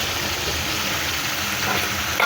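Steady, close sizzling as taro stolons go into frying mustard masala made with mustard paste, a dense hiss of oil throughout with a faint stir near the end.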